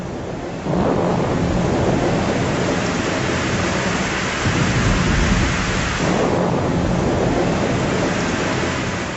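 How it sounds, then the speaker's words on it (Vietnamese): Heavy rain pours steadily in a dense, loud wash, with deep rolling thunder swelling beneath it, no voices present. "Ê, sao tự nhiên trời nổi sấm chớp mưa vậy?"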